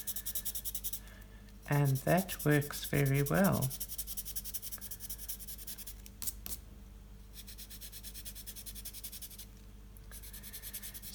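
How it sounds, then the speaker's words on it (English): A Koh-i-Noor colored pencil blender rubs on paper with faint, quick scratchy strokes, near and quiet, broken by a brief spoken remark. "I'm using my Koh-i-Noor pencil blender to try these together,"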